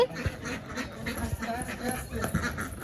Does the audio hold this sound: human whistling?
no